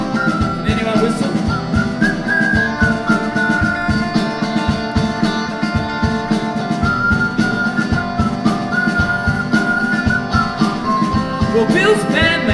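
An audience member at a live fringe comedy-music show whistles a loud, sustained melody over steady rhythmic accompaniment, carrying on for several seconds.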